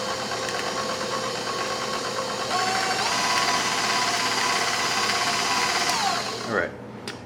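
A stand mixer whirs steadily on low speed while pan-seared lamb chops are being prepared, a continuous motor hum with a mechanical beat that rises slightly partway through before cutting off near the end.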